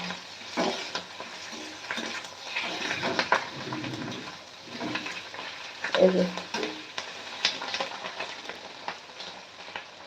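An iron wok holds food frying with a moderate, uneven sizzle, punctuated by stirring scrapes and occasional metallic clinks.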